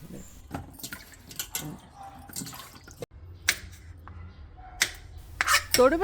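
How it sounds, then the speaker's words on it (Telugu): Tender ivy gourds are rinsed by hand in water, giving irregular splashes, drips and knocks of the vegetables against the bowl, up close and with no talking. "అరకిలో లేత దొండకాయలు శుభ్రంగా కడగాలి"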